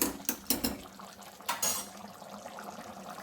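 A spoon scrapes and clinks against a metal cooking pot while stirring an avarebele bath, a few sharp taps near the start and a louder scrape midway, then softer movement.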